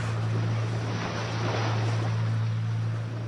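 Boat engine slowing as it approaches a beach at sea, carrying about twenty passengers: a steady low drone runs throughout with wind and water noise, close and continuous, no talk.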